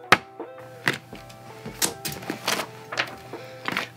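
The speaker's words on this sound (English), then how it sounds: "Let's get to unboxing this thing." Unboxing a MotionGrey standing desk: a string of separate knocks, thuds and rustles as packaging and parts are handled close by, with short pauses between them.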